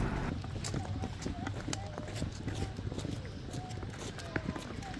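Pony hooves clip-clop in a steady, repeated rhythm during a pony ride at a cool outdoor attraction in Bedugul, Bali, close by under people talking and general crowd noise.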